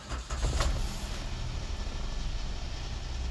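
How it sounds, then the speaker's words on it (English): A 2016 Kia Picanto 1.0 petrol engine starts with a brief crank, then falls into a low, steady idle heard from inside the small car, with no talking. "Just start the car up."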